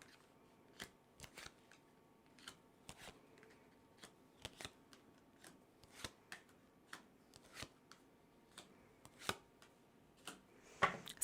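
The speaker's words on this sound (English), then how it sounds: "let's place these cards down" Tarot cards are laid down one at a time on a table as sharp, quiet snaps and taps, arriving at irregular intervals with near silence between them. A slightly denser flurry of handling comes at the very end.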